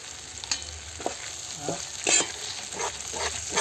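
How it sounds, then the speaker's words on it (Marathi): Spice masala sautéed in a pot over a wood-fired stove while making stuffed brinjal: repeated close scraping stir strokes over a soft, continuous frying sizzle, with no talk. "मसाले पण असे परतून घेऊया"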